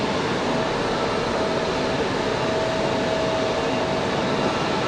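An Airbus A320 departing Raleigh-Durham airport roars in a loud, steady broadband jet rush that holds without pause, heard from a distance on the ground.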